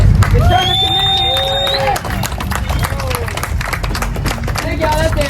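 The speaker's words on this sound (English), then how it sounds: "So let's give ourselves a round of applause because it's from the community." A crowd at a nighttime car meet claps and cheers, loud, sustained applause mixed with whoops and shouted voices and a low rumble underneath.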